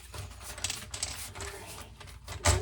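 Tarot cards being shuffled close by in quick, papery riffling bursts with soft rhythmic pattering, ending in a louder final snap of cards.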